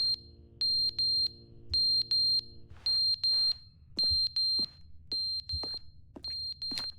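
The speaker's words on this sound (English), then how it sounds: "Smoke alarm." Smoke alarm in the video game The Stanley Parable giving off shrill electronic beeps in short paired and single bursts, loud and close over a low background hum, with no talk.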